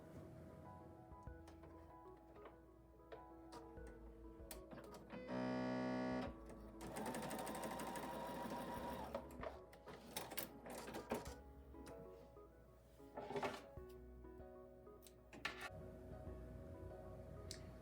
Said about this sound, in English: I'm going to sew those together, right sides together